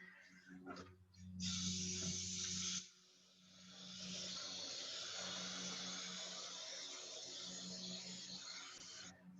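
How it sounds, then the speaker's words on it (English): A small hand sprayer set to a gentle spray moistens garden soil, starting with a few short sputtering bursts before settling into a long, even hiss close by. "So I'm gonna take my nice little sprayer here, make sure it's on a nice gentle spray, just a gentle trickle."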